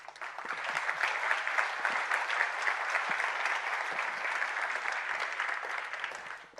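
A keynote audience applauds steadily at the BricsCAD BIM V20 launch, a dense, even wash of many hands clapping that holds at full strength for several seconds before easing off at the very end.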